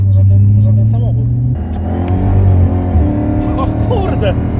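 A Dodge Charger Hellcat SRT with a 707 hp engine accelerates, its loud, deep engine note holding, shifting down and climbing again in pitch, heard close from inside the car with voices talking over it.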